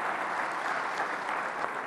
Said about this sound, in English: So let's please give him a round of applause again, Mr. President.